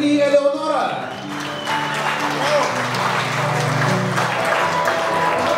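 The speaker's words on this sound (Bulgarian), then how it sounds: "Да чуем вашите аплодисменти" Wedding guests applaud after the best man and matron of honour's speech, a crowd clapping steadily under loud music and voices, clearest at the start.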